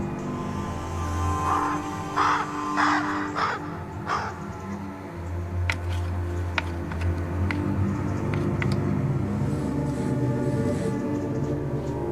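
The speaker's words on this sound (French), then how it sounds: "L'oiseau noir appelle encore son compagnon de chasse." A crow caws in a short series of harsh calls, fairly close, over a low rumbling background with scattered ticks and clicks.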